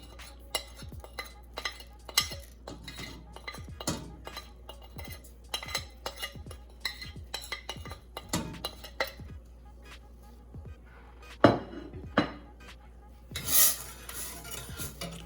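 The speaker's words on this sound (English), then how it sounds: "Go ahead and mix that in" A spoon mixes parsley, salt and black pepper into corn in a pot over medium heat, making repeated clinks and scrapes against the metal in an irregular rhythm, close up, with a louder clatter near the end and no voices.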